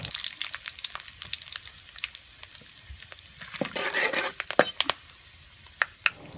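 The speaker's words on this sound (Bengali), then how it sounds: "তেলটা একটু গরম হলে এতে গরম মশলা ও তেজপাতা দিয়ে একটু ভেজে নিব।" Garam masala and bay leaves frying in hot oil in a pan for beef korma, a steady close sizzle with crackling pops and a few sharp clinks near the end.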